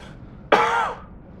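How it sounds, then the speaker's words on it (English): A single short, harsh throat-clearing cough, close and loud, lasting under half a second before fading into quiet. "It's an okay cough"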